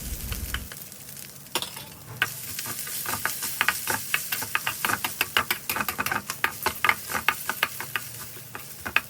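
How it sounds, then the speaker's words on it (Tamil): Grated coconut fries in a pan while a utensil stirs it, producing a soft sizzle broken by dense, rapid scraping taps and clicks throughout, close and clear, with no talking. "அது கொஞ்சம் நல்லா பொரியறதுக்கு ஈஸியாக இருக்கும்."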